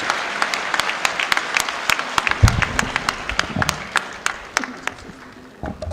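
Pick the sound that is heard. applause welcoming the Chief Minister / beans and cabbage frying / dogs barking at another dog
applause welcoming the Chief Minister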